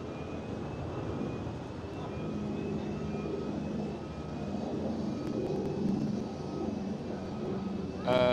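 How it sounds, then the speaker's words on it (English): An Emirates SkyCargo Boeing 777 freighter at Amsterdam Schiphol gives off a steady, moderately distant jet engine roar with a faint whining tone, holding level throughout before a brief louder burst at the end. "And I do see Emirates 777 Sky Cargo."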